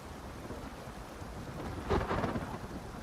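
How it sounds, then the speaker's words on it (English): Thunder rumbles from the sky in a Hogwarts Legacy video game trailer, with steady rain underneath and one low, rolling swell near the end that sounds fairly distant. "Like I love the sound of thunder, like when it is in the distance."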